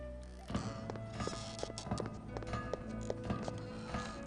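Hooves of a horse in the Vampire: The Masquerade – Redemption video game clip-clop in a steady walking rhythm, close and clear, with game ambience underneath and no talking.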